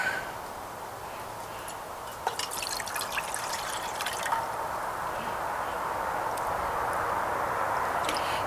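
Steady close splashing and trickling of about 2 cups of water pouring into a pot, with a few brighter drips and gurgles, no talking.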